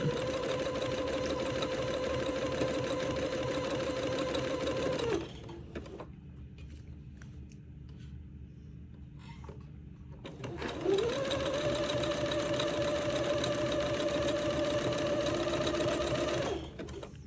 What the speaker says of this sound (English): I've got about 6 feet of entredot to sew onto insertion, so this is going to take me a while to zigzag this on